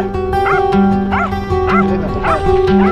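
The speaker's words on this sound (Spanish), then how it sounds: "los perritos abandonados. Los perritos que paran en la calle." Abandoned street dogs yipping and barking in repeated short bursts, loud and close, with a whimpering tone between yelps.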